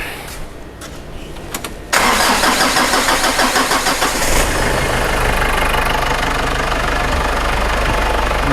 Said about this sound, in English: I'll just start the car and we'll just collect some data